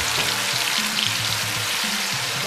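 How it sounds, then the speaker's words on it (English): Spiced plantain deep-fries in hot vegetable cooking oil, a loud, dense, continuous sizzle close up that fills the whole moment without pause. "My oil, vegetable cooking oil, is hot. I'm just going to use my spatula to scoop it into the oil."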